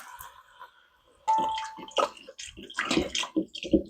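Chicken stock is poured into a cooking pot over neck bones, a splashing, gurgling stream of liquid that starts abruptly after a quiet moment and continues unevenly with drips and sloshes.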